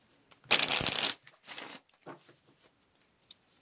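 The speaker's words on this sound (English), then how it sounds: "When I was shuffling coming into this reading" Tarot cards shuffled in a long riffling burst followed by a shorter second burst, then a few light card taps and handling sounds, close and fairly loud with no talking.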